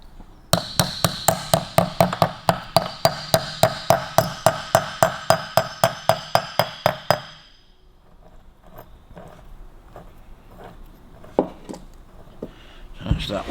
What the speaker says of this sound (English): You just tap him on, but it stops all of that falling out when you turn it over.